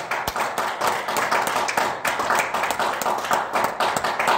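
A church congregation claps loudly and steadily in a quick, even rhythm to acclaim the Lord, the sound dense and close with no break across the span.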